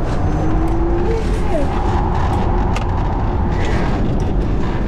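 A Porsche sports car engine, likely a 911 GT3 or GT3 RS, roars loudly and continuously with a rising rev note from close by, under people talking.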